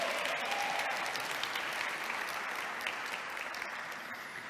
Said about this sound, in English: Round of applause for Rabab as well.